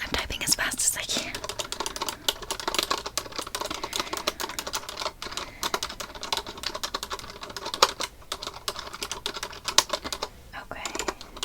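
Rapid computer keyboard typing in quick irregular bursts, close-up and clicky, as hushed whispered talk continues alongside during a study session.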